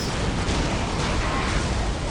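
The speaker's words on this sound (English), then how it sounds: "and just explosion spamming" Dense overlapping explosions in the Dawn of War Soulstorm strategy game with Ork forces fighting, a loud, continuous wall of rumbling blasts and gunfire with no distinct gaps, no voices heard.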